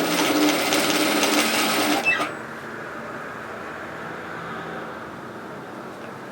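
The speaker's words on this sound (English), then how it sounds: "and continue sewing" Sewing machine running steadily as it stitches the side seam of a large unlined reusable shopping tote, loud and continuous for about two seconds before stopping, leaving quiet room noise.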